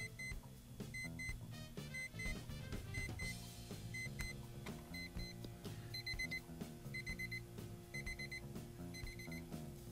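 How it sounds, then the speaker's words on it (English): A LEGO Jack Stone fire alarm clock from 2002 sounds its alarm: a quiet, repeating electronic beep melody that loops steadily over a busy tonal backdrop throughout. "Oh, that's how you enable the alarm."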